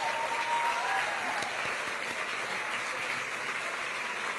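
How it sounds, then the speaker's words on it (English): Applause from a gala audience, a dense, steady wash of many hands clapping in a large hall, sustained at even loudness throughout. "Let's give them all a big round of applause."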